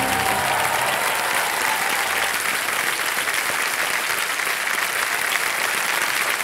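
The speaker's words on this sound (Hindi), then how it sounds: "वेल प्लेड वेल डन तालियां मचती रहे इनके लिए" A studio audience at a TV quiz show claps loudly and continuously, a dense even wash of applause with no talk over it.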